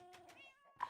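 A cat meows in the Minecraft video game, a short tonal call with a second brief mew at the end, faint and on its own.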